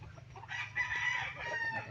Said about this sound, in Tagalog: mga alagang manok sa atong agalon mga idol.